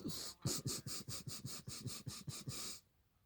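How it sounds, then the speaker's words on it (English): Rapid-fire nasal breathing in a breathwork session: about a dozen quick, forceful sniffing breaths in a steady pulse, close and loud, stopping abruptly into near silence. "the rapid fire nasal breathing"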